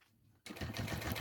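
Sewing machine stitching piping trim onto a mini backpack, starting abruptly after a moment of quiet and running steadily, close and clear.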